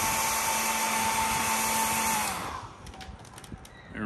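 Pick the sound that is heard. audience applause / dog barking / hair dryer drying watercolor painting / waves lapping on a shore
hair dryer drying watercolor painting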